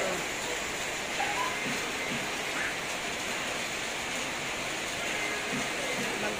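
Steady, dense hiss of heavy rain pouring down in Davao City, constant and loud throughout with no pauses.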